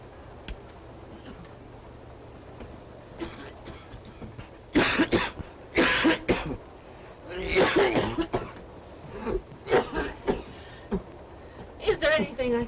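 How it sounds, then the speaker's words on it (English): A sick, dying man coughs in a 1930s train's club car, repeated harsh bursts of coughing in clusters, fairly close, with a faint ticking in the background. "Can you hear that poor man coughing?"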